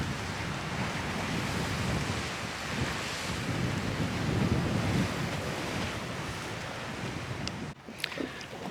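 Choppy sea waves in a bay off Croatia slosh and churn continuously, with heavy wind buffeting the microphone throughout and a brief dropout and a few knocks near the end.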